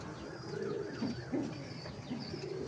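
Pigeons cooing inside a loft on a rainy day, several soft low coos repeating in overlapping bursts at close range over a steady background hiss, with no talking.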